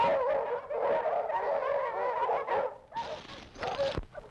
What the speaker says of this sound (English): Those are hounds. They picked up our trail.